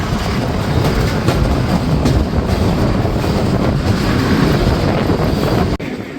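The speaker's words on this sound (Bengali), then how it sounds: "গ্রামীণ মাঠঘাট পেরিয়ে ট্রেনটি ছুটে চলেছে তার পরবর্তী যাত্রা বিরতির উদ্দেশ্যে" A local mail train in rural Bangladesh, heard from on board, gives a loud, steady rumble with faint rhythmic wheel clatter and wind buffeting, then drops suddenly near the end.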